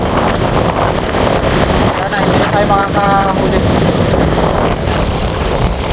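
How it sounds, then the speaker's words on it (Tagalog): Strong wind over a lake roars and buffets the microphone in a constant heavy rush, with a voice speaking briefly under it. "pagka ganyan kasing malakas ng hangin, malakas na rin ang alon"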